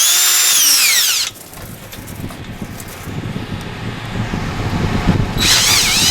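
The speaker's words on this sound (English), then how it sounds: "I've got the first 7/16 of an inch hole drilled" Power drill boring a 7/16 inch bolt hole to mount leveling jacks, a loud close whine at the start and end with a rougher, lower grinding stretch of cutting in between.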